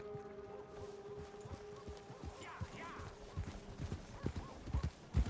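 Horse hooves clip-clop in Red Dead Redemption 2, soft and uneven at first, then growing heavier and closer toward the end over a low game ambience hum.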